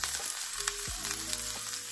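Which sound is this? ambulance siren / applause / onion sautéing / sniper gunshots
onion sautéing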